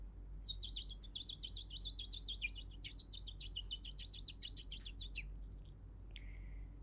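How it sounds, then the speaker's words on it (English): Small birds chirp and trill in quick, bright bursts during a guided meditation, a lively cluster of calls over a quiet background that trails off near the end. "And there are birds."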